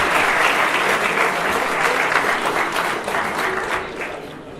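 Dense, sustained applause from a crowd at a youth sports award ceremony, a steady wash of many hands clapping together that holds strong, then tapers slightly toward the end.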